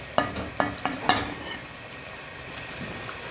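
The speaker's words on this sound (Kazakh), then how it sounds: "Мінекей болгар бұрышымен сәбізімізді салып, ары қарай 20 минуттай қуырып аламыз." Carrots and bell pepper frying in oil for Uzbek plov, a few sharp clatters of stirring at the start, then a faint, steady sizzle alone.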